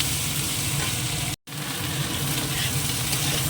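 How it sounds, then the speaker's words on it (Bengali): Potatoes and green peas fry in a pan, giving a steady, loud, close sizzle that runs throughout with one very brief break partway, and no talking. "আর আলুটার মধ্যে মটরশুঁটি কটা দিয়ে দেবো, একসঙ্গে ভেজে নেবো"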